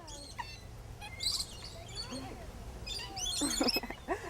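Small birds chirp and tweet in a cemetery, quick high bursts of calls clustering at the start and end over a low, quiet background.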